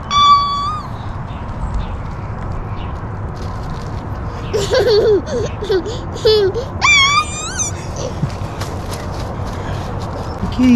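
A frightened kitty gives several wavering, drawn-out meows while being petted, loud and close. A person speaks softly under and between the cries.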